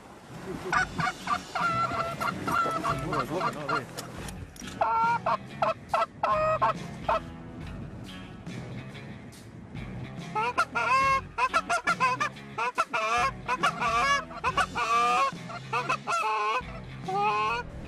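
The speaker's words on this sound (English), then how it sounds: "Goose, there's some geese over there." Wild geese honking loudly and repeatedly in rapid overlapping bursts, a flock calling close by at a hunting spot, the cries coming in busy waves with brief lulls between.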